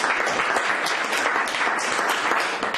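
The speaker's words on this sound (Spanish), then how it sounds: "Un fuerte aplauso" A public-speaking club audience in Madrid bursts into loud, dense applause, a continuous close roar of clapping hands lasting a few seconds.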